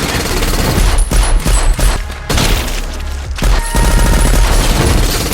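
A film shootout erupts in rapid bursts of gunfire, dense overlapping shots and booms with brief gaps, loud and close throughout.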